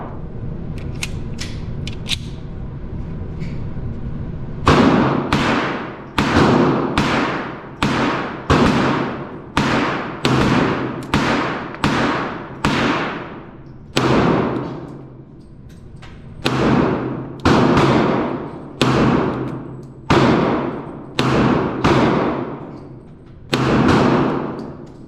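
Gunshots firing cast Lee 401-145-SWC lead semi-wadcutter bullets at 25 feet, a steady string of about a dozen or more loud, sharp reports spaced roughly a second apart, with a few faint distant pops before the string begins.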